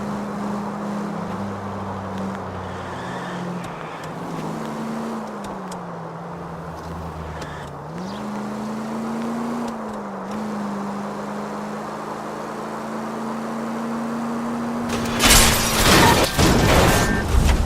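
A period car cruises through city streets in the game L.A. Noire, a steady engine drone that rises and falls with gear changes under road noise, ending in a sudden loud crash-like burst.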